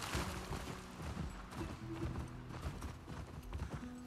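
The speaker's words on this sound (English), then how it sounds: "it's so nice to have horses in this game. Man, you go so fast" Hooves of a galloping horse in the video game The Last of Us Part II, a quick, steady clip-clop rhythm, fairly faint, under a low game soundtrack.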